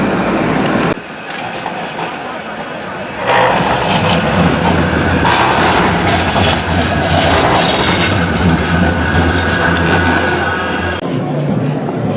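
A train rumbles and clatters past in Manchester city centre near Piccadilly station, loud and steady with rolling wheel noise and a brief shift in tone partway through.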